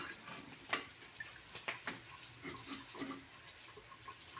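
Chinese fried rice with sautéed carrot, corn, green peas and a little soy sauce sizzles quietly in a pan, with a few sharp scraping stir strokes and clinks over a steady low frying hiss.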